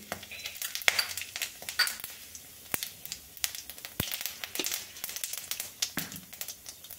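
Whole cumin seeds and a cracked dried red chili drop into hot oil, giving a close, faint crackle and sizzle with scattered sharp pops and light clinks of a pan, with no talking.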